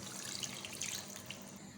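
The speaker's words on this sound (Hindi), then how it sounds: "अब हम इसमें पानी ऐड कर देंगे।" Water is poured steadily into a cooking pot holding khandaiya, a gram-flour dish, making a continuous splashing gush, close and fairly soft, with no talk.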